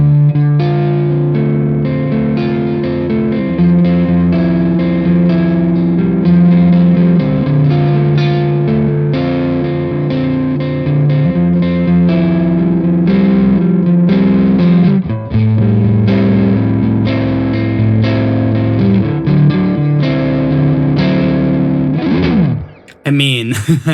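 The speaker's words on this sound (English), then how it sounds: "add some more of that spring reverb that was sounding so nice" Electric guitar played through an amp simulator with spring reverb, a sustained, lightly distorted chorded tone ringing with reverb tails for about twenty seconds, loud and alone before it cuts off near the end.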